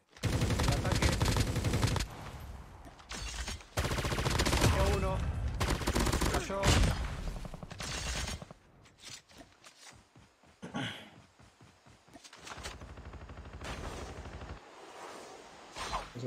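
Heavy gunfire in COD Mobile, with sustained automatic bursts that are dense and loud, then sparser scattered shots and softer game sounds, with voices talking partway through.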